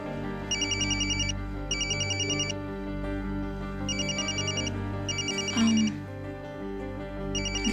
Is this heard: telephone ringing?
yes